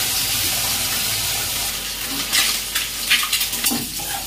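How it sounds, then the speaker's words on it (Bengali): Whole eggs sprinkled with salt and turmeric fry in hot oil in a wok. A soft sizzle runs under clattering scrapes from a utensil that grow louder toward the end. "হালকা একটু লবণ আর হলুদ ছড়িয়ে গোটা ডিমগুলোকে লালচে করে ভেজে নিচ্ছি"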